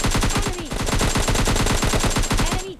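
Rapid bursts of Uzi submachine gun fire in the mobile battle royale game PUBG Mobile Lite, loud and continuous, with sharp rhythmic shots crowding the whole moment.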